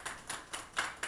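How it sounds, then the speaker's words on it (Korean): Scattered claps at a Korean candlelight prayer meeting honouring a pastor, a few sharp hand strikes spaced out over a second or so, close and moderately loud, with no talk. "우리 목사님께 감사의 박수 줬으면"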